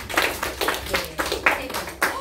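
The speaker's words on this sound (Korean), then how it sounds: "이렇게 박수 한번 주세요." A few people in an audience clap in a steady, even rhythm, about eight distinct claps close by with no voices, at a Korean talk on national reunification.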